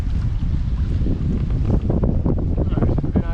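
Wind blowing across a lake while boating, a loud continuous roar buffeting the microphone with water churning beneath, and voices talking over it.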